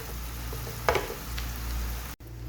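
Onions and spices frying in a pan, a steady soft sizzle throughout with a brief stirring scrape near the middle and a short cut near the end.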